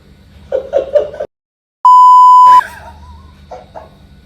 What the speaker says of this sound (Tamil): பீப் சவுண்ட்லாம் போடுறான்